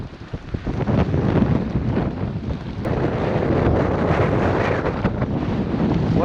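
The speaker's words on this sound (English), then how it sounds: "Oh yeah, I can feel the wind now." Strong wind roars across the microphone at sea during a storm, heard from a saltwater fishing kayak as a loud, continuous gusting rush with sloshing water beneath it.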